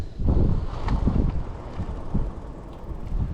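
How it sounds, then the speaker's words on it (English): Gusty wind buffets a microphone on a lake during a fishing outing, a steady low rumble swelling and easing over a few seconds with no voices. "the wind is just cranking up every minute"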